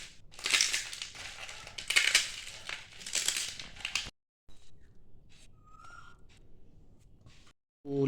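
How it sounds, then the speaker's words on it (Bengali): Boiled potato is mashed and dried lentil dumplings (bori) are crushed by hand on a plate, giving close crunchy crackling bursts for about four seconds, then quieter faint handling after a short silence. "আলু ভাতে মাখা চলছে, বড়িগুলোকে ভালো করে ভেঙে নেওয়া হচ্ছে।"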